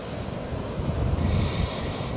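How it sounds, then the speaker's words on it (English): Wind buffets the microphone in a steady low rumble, gusting a little stronger midway, with no voices present. "Ooh, it is windy."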